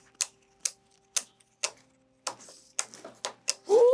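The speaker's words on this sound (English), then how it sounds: "they're going to go ahead and shuffle all of their tiles" Board game tiles from Mycelia are shuffled by hand on a table, giving a series of sharp, separate clacks and taps at an irregular pace, close and fairly quiet, with no talking.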